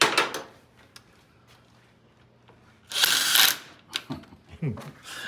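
Bolts being removed from a 5-speed transmission in a shop, with a loud burst of power-tool ratcheting plus scattered metallic clicks and clinks, close by, and a voice talking faintly underneath.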